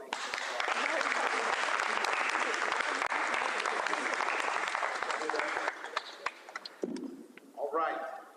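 Loud, dense audience applause at a law school signing day event, sustained for several seconds before thinning out into scattered claps as a voice begins speaking.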